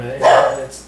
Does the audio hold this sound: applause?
no